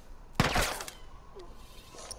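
Gunfire in The Last of Us during a snowy stage: one sharp, loud burst of shots close up, ringing out briefly and fading into a quieter game background.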